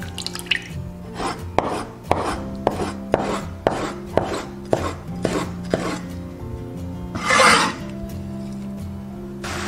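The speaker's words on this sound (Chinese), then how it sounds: "我们把泡好的木耳捞起来，切成丝。" A knife chops soaked wood ear mushroom into strips on a cutting board, a run of crisp, evenly spaced thuds close up with a brief scrape partway through, no voices.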